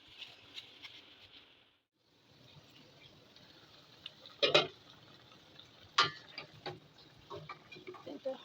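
Spiced beef in a pot on the stove is stirred for a Bangladeshi beef and potato dish, with a few close metallic clacks and scrapes standing out over a soft, steady background hiss.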